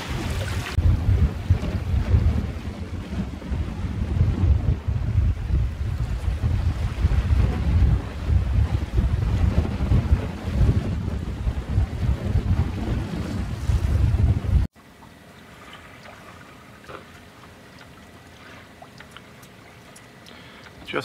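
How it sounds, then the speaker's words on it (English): Strong wind of about 20 knots blows at sea aboard a small sailboat, a loud roaring rush with buffeting against the microphone, then dropping to a quieter steady hiss toward the end. "Well, it's blowing about 20 knots, maybe a little bit more."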